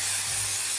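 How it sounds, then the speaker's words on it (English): Temporary spray adhesive hissing from an aerosol can onto fabric for a stitched Santa plushie, a steady close, loud spray running the whole short moment without pause. "I'm going to spray some temporary spray adhesive"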